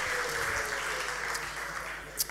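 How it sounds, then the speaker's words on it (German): Steady, dense applause rolls through a television studio audience at The Masked Singer, cheering the meerkat, with a brief sharp accent near the end. "bitte einen Applaus fürs Erdmännchen"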